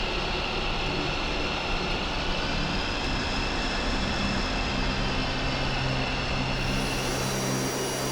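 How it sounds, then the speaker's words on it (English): MiG-21 jet engines in the DCS combat flight simulator start up and taxi, making a loud, continuous roar and whine that stays steady throughout with no talk. "a flight of MiG-21s are starting up and making their way to the active runway"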